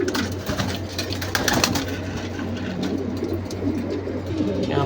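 Pigeons in a loft coo continuously and close by, with soft overlapping throaty calls over a steady low hum and no speech.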